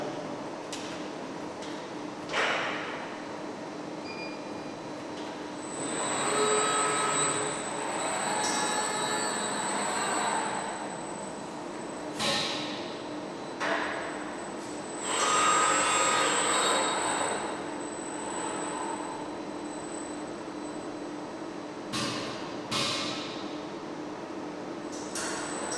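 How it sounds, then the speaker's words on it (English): A KUKA industrial robot works through a pick-and-place job for a CNC machine, with a steady mechanical hum, whirring servo motion that rises and falls, and several sharp clicks and clunks spread over the stretch, no speech. "So now I am going to run the robot for the CNC application, just picking and placing the job"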